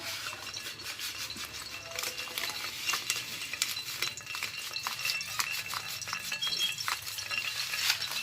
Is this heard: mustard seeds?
yes